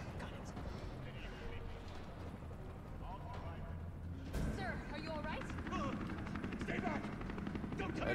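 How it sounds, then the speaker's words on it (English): Helicopter in the video game Resident Evil 3 Remake, a steady low rotor drone beneath dense in-game noise, with voices and a louder burst of action partway through. "there's a helicopter waiting to take you to safety"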